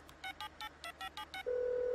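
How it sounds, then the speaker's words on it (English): A telephone keypad beeps through about eight quick dial tones in a steady rhythm, followed by a continuous ringback tone, faint and alone. "Oh, it's ringing, Rupert."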